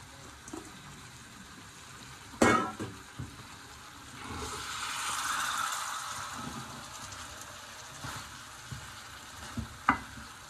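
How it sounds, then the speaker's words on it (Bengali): Yardlong beans are tipped into a pan of frying hilsa fish curry and stirred, giving a soft sizzle that swells in the middle, with a sharp clatter of the utensil near the start and a few light scrapes later, heard at close range. "মাছটা কষানো হয়ে গেছে, এখন আমি বরবটির সিমটা দিয়ে দিচ্ছি।"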